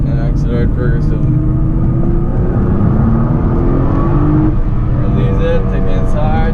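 A Nissan GT-R on a race circuit, its engine droning loud and steady as it accelerates, heard from inside the car with an instructor talking over it.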